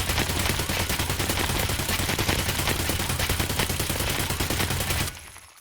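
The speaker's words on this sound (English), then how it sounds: "We have the AK going off first, and this is no control from my hand." An AK rifle in Escape from Tarkov fires full auto in one long, loud, unbroken burst of rapid shots, then cuts off sharply near the end, leaving a brief quiet tail.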